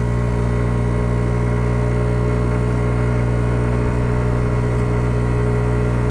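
A Kymco Agility 50 scooter's small engine drones steadily and close, holding a constant harmonic hum as it accelerates, with no voices over it.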